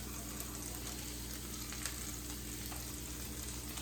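Onions frying in a pan give a faint, even sizzle that holds steady throughout, with a few light scrapes and no voices.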